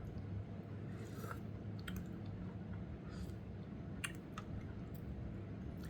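Close mouth sounds of someone chewing Jinjja kimchi instant ramen noodles, soft wet squishes and small bites over a low steady background hum.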